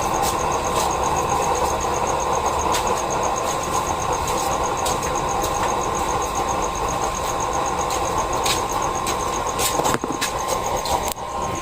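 A used-oil nozzle burner stove running in LPG mode gives a steady, loud broadband roar with a constant hiss and no pauses, close by and alone.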